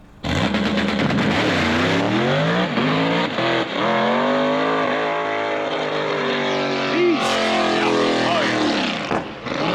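A drag car launching hard down the strip, loud sustained engine roar with shifting pitch as it pulls away, voices talking over it.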